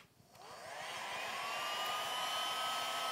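A heat gun for stripping paint switches on and runs, its fan whine rising over the first second into a steady, close, loud blowing hiss that continues alone.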